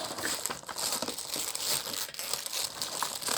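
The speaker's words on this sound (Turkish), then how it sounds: "Hadi bakın arkamda gördüğünüz paketi açıyoruz." A package being torn open by hand: loud, close crinkling and crumpling of plastic wrapping, with busy bursts of rustling and brief tearing throughout.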